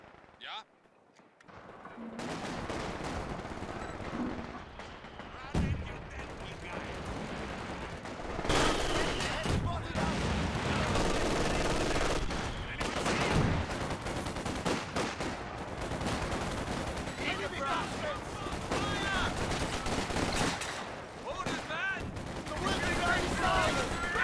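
Dense gunfire and explosions from a Company of Heroes 2 multiplayer battle, with bursts of shots and heavy blasts layered continuously under a commentator's voice.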